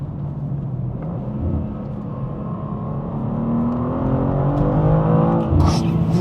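A manual BMW M2 (G87) accelerates in second gear, its engine note rising steadily in pitch and loudness from inside the cabin, with a brief louder burst near the end.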